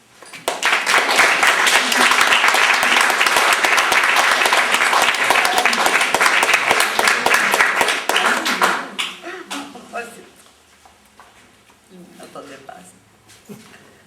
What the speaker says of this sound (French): elle mérite tous vos applaudissements